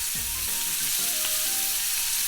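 A beef tenderloin steak searing in a hot pan just after being flipped, a loud dense steady sizzle that fills the short moment without any talk.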